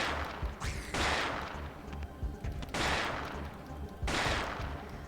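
Gunfire in the survival horror video game Parasite Eve 2. Three loud, broad blasts are spaced a second or two apart, each trailing off over a steady low background rumble.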